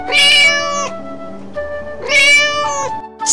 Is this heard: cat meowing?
yes